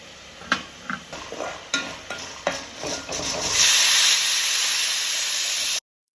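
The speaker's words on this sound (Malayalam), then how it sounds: "അപ്പം മുട്ട ചിക്കി പൊരിച്ചത് ഇവിടെ റെഡി ആയിട്ടുണ്ട്" Eggs scrambled and fried in a pan for appam, with several scraping stirs of a spatula followed by a loud steady sizzle and hiss, then an abrupt cut to silence.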